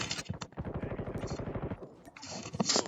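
Rapid automatic gunfire in Call of Duty Mobile rattles off in one long, dense burst, close and loud, then trails into a short gap before a few more sharp shots at the end.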